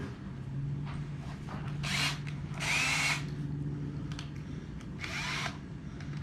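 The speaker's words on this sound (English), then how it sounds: "This one I can actually use the actual screwdriver bit to grab it real fast." A power drill with a screwdriver bit used while rigging an Old Town kayak: several short, close whirring bursts of the motor with brief pauses between them.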